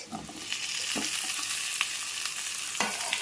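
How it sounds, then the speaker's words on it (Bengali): Fried potato, eggplant and shrimp stirred together in a pan: a steady close sizzle with scraping strokes of the spoon against the pan, continuous for a few seconds with no voices. "দিয়ে এবার ভালো করে নাড়াচাড়া করব"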